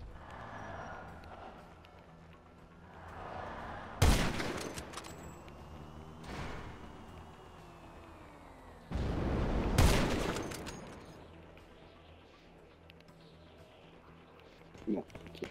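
Sniper rifle gunfire rings out in a video game, with two loud, sharp shots several seconds apart over a busy game soundscape and a few fainter bursts.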